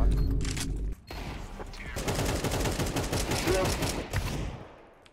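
Rapid automatic gunfire from Counter-Strike 2 rattles in a dense, sustained burst of close shots for several seconds, following a couple of earlier single reports, with voices talking over parts of it.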